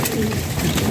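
Brief low cooing from a pigeon held at a bird sale in Bahawalpur, a steady warbling murmur lasting under a second.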